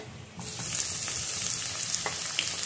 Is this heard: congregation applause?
no